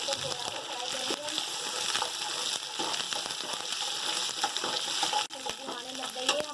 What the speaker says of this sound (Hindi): तमाम मसाले मैंने डाल दिए, इनको थोड़ा सा फ्राई करेंगे।